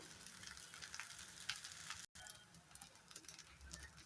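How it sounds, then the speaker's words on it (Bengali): Chicken fried rice ingredients fry in a pan with a continuous crackling sizzle, broken by a short silent gap partway through. "সবগুলো জিনিস খুব সুন্দর করে ফ্রাই করে নিলাম"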